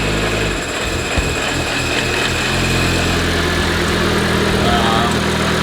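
A custom car built with a Mercedes alternator pulley is started and settles into a loud, steady idle, a continuous close engine rumble with no talking.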